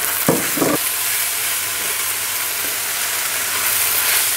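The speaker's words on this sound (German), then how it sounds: "Nach 3 Minuten nehmen wir den Deckel ab, geben die Zwiebeln dazu." Steady loud sizzling of onions frying in a hot pan with meat, a couple of quick clatters at the start as they go in, then continuous crackling hiss.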